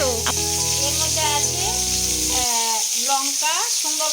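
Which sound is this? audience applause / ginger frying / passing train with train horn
ginger frying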